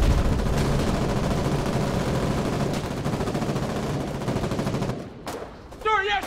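Rapid, dense gunfire rattles from close range in the Foxhole war game for about five seconds. It breaks off into a short pause and then one more burst, with a voice heard briefly near the end.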